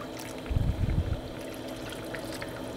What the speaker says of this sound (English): So I'm going to go ahead and add my water now.